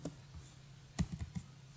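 Keys clatter on a computer keyboard while code is typed, a short cluster of four or five close, fairly faint clicks over a low background hum.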